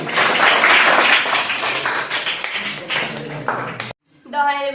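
Students clapping at a school speech event, a loud, fairly close burst of hand claps that fades over a few seconds, then cuts out before a brief tonal sound follows.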